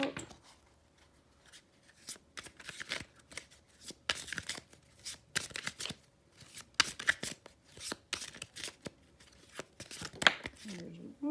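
Tarot cards being shuffled by hand, a run of soft papery riffles and flicks in irregular bursts, close and fairly quiet, with no voices.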